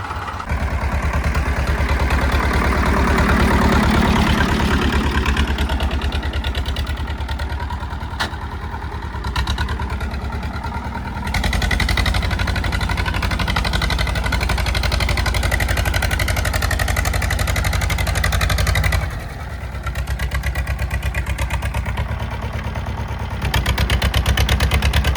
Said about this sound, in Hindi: तो भाई साहब दोनों ट्रैक्टर स्टार्ट कर लिया है